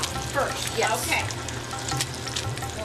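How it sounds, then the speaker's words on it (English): Salmon fillets sizzle and fry steadily in a hot pan, a continuous close crackle running throughout, with brief words spoken over it. "you hear the sizzle of And the I salmon."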